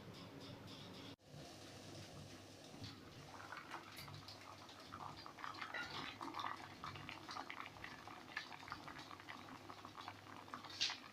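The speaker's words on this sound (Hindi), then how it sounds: "तो अब ये कम से कम 20 मिनट तक के लिए ये चूल्हे पर पकेंगे।" Watermelon rinds simmer in a pot on a stovetop, giving a steady soft bubbling with light patter that continues throughout, quiet and close, with no talking.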